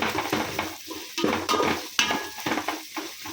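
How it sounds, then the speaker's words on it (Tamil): Onions, ginger and garlic frying for biryani, steady close sizzle with frequent scraping stirs and light clinks of a utensil against the pan. "ஸோ இது நல்லா ஃப்ரை பண்ணிக்கலாம்"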